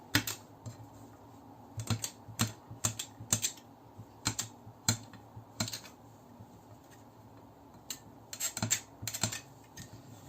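A blade cutting polymer clay into small squares on a hard surface, sharp close taps and clicks in uneven bursts with pauses between, quiet otherwise.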